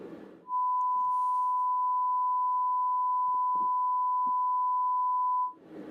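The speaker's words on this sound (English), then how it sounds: "Let's listen to our 8-bit sine wave" A steady pure 8-bit sine test tone sits at one fixed pitch for about five seconds, clean and constant, with faint clicks and background noise around it before and after.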